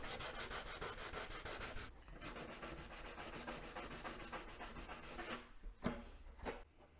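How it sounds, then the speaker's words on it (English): Very fine sandpaper is rubbed over a Harley Road Glide Limited windscreen part in quick, even back-and-forth strokes, faint and close, with a brief pause and a few scattered final passes. "Now I'll sand this with sandpaper, very fine sandpaper."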